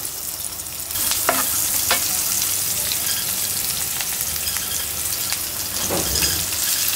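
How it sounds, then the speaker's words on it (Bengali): Sliced onions dropped into hot oil hiss in a steady, close sizzle for a Barishal-style home recipe, with a few faint clinks and no talking. "এখন তেলের উপরে পেঁয়াজ দিয়ে দেব।"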